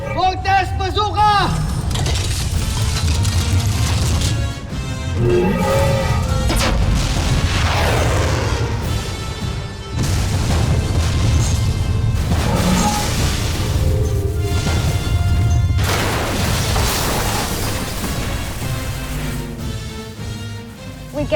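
Voltes Bazooka weapon firing in the Voltes V Legacy series: loud, sustained booming blasts and crashing impacts layered over dramatic music, with voices talking and shouting throughout.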